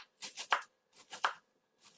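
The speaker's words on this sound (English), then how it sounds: "I actually like chopping by hand" A knife chops cabbage by hand for sauerkraut, making crisp, quick cuts in short bursts of three or four on a board, close and clear with quiet gaps between.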